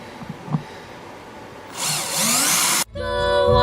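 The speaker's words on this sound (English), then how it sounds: "I've got my drill rig on here that my viewer sent to me" A power drill on a drilling rig bores holes into an 1884 Washburn guitar, its whine starting after a few faint bumps and rising loud and steady, then briefly cutting out and revving back up.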